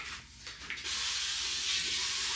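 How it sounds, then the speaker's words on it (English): Avocado oil cooking spray hisses from a can in a home kitchen during bulk meat prep. The hiss is close, loud and steady, starting after a short quieter lead-in and running unbroken to the end. "I'm just getting some avocado spray down."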